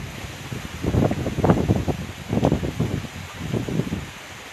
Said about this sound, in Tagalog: Lumalakas na, unti-unti nang lumalakas ang hangin.